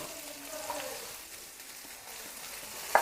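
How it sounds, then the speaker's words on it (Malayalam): Onions fry in hot oil for a pearl-spot fish masala, producing a steady, fairly faint hiss of sizzling throughout, with a brief louder clink near the end. "ഓക്കെ, നമ്മുടെ എണ്ണ ചൂടായിട്ടുണ്ട്. അപ്പോൾ ഇതിലേക്ക് നമുക്ക് ആ സവാള"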